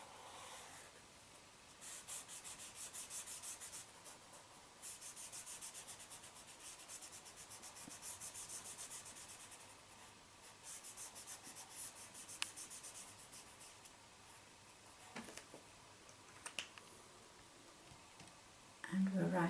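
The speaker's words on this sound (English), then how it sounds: "we'll colour in this saddle cloth" A pencil or crayon colours in a drawing, giving soft, repeated scratchy strokes in bursts, close and faint, with brief pauses and a few light taps.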